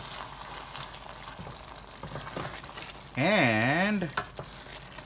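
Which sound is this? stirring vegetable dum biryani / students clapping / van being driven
stirring vegetable dum biryani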